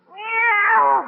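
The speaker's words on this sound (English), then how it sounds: "Meow." A single drawn-out meow, rising and then falling, close and clear against silence.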